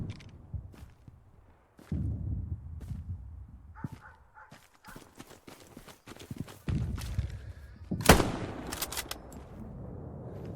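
Scattered gunshots crack across a World War II battlefield in the shooter Hell Let Loose, mostly faint and distant single reports at irregular intervals, with one sharper, closer shot standing out against quiet background movement.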